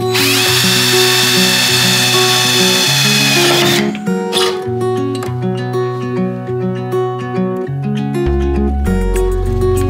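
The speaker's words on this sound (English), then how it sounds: "These are going to be roughly a half inch size hole with a drill bit." A power drill bores half-inch holes through a truck bed during a bed stiffener install. The motor whines loud and steady for the first few seconds, then cuts out and leaves clanks, scrapes and handling noises over a steady tonal background.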